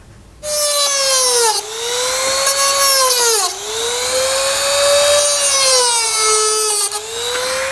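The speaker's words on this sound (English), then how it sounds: "I'm just going to use a rotary tool with a cutting blade." A rotary tool fitted with a cutting blade trims plastic air dam tabs on a 2019 Jeep Grand Cherokee, a loud, close, high-pitched whine whose pitch dips and recovers as the blade bites into the plastic.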